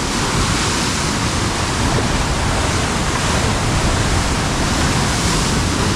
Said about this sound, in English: Oh my god, the ocean is so wavy.